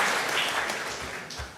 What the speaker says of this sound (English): They clapped.